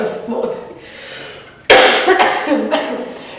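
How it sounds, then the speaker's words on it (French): One abrupt, close cough bursts out after a stretch of murmured speech, followed by a few rougher exhalations as talking resumes. "j'ai une toux qui a envie de monter"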